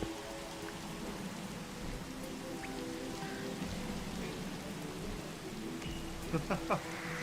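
Steady video game rainfall at night patters continuously, dense and even, with a few sharper clicks near the end.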